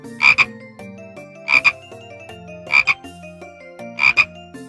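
A frog croaks four times in evenly spaced, loud double bursts over a light musical backing in a children's animal guessing game.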